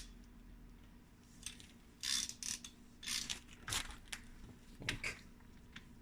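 Brake caliper piston being compressed to free the pads, heard as a series of short mechanical clicks, scrapes and ratcheting bursts, fairly close, with no talk.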